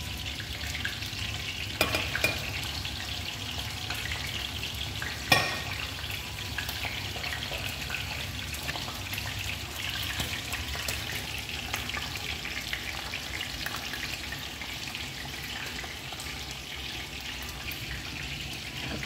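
Chicken pieces fry in a pan for a Kuwaiti-style chicken and rice dish, making a continuous, even crackling sizzle close by, with one brief utensil clatter partway through.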